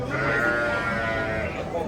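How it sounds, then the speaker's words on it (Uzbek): Sheep bleat repeatedly at a livestock market in Kokand, their cries close and loud over the steady crowd murmur of the sheep bazaar. "Mana qo'ylar."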